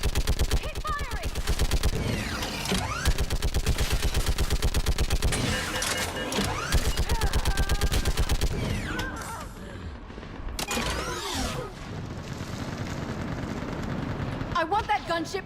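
Rapid automatic gunfire in the Mass Effect 3 battle on Thessia, rattling in dense continuous bursts with heavier blasts and a brief lull near the middle, with shouted voices over the fight.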